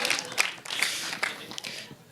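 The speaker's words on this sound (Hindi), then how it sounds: "हाँ तो तालियां बजाओ मेरे लिए" At a film trailer launch, the crowd gives a brief scattered round of clapping, moderately loud and mixed with voices talking.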